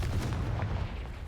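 A Confringo fire blast spell in Hogwarts Legacy, a brief heavy whooshing burst with a low thudding boom, loud and close, with no voices.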